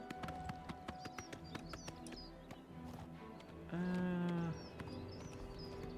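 Horse hooves clip-clop in The Elder Scrolls IV: Oblivion Remastered, a quick run of light rhythmic hoofbeats with game ambience, briefly overtaken by a loud tonal sound partway through.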